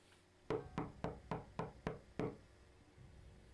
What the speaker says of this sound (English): The monster knocking the door.